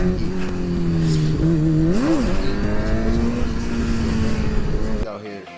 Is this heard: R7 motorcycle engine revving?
yes